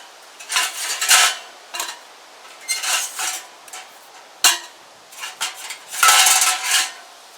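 Stainless steel stove pipe sections clank and scrape as they are packed inside a GSTOVE Heat View XL, with bursts of metallic rattling and one sharp knock, close and loud, no talking.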